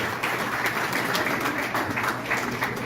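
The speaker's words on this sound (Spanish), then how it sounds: "Recibamos con un fuerte aplauso entonces a nuestro siguiente panelista, el doctor Alejandro Rodríguez." An audience at a criminal-justice panel forum welcomes the next panelist with applause, a moderately quiet, continuous patter of many hands that swells slightly in places and holds steady throughout.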